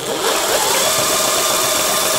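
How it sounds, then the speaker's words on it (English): A lawn mower engine with no spark from a failed ignition coil cranks over, giving a dense continuous mechanical whir that runs loud and close for about two seconds without catching, with no voices. "It should turn over very easy once that brake is removed. And now we are going to see if it fires."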